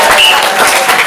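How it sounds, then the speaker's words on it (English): A stand-up comedy audience breaks into loud, dense applause, a continuous wash of clapping filling the room throughout the short moment. "Applaud now."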